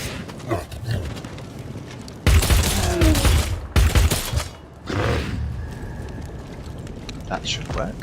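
Bursts of gunfire in the Warhammer 40,000: Dark Heresy video game, a dense volley and then a second loud burst, under a voice talking.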